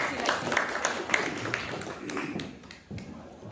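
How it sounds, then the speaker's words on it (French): An indoor audience at a discussion event gives a short round of applause, dense scattered clapping that thins out over a few seconds while a voice speaks faintly underneath. "Merci, on peut vous applaudir."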